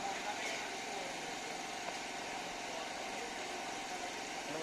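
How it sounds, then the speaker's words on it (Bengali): A generator drones steadily nearby in Sajek, a constant mid-pitched engine hum, with people talking over it. "জেনারেটর সাউন্ড আছে যাই হোক"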